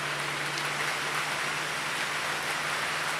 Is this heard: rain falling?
yes